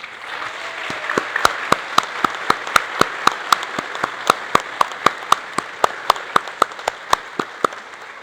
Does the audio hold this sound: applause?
yes